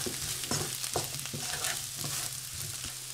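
Sweet potato pieces frying in a pan, already partly browned, with a steady close sizzle and occasional stirring scrapes and clicks, no talk.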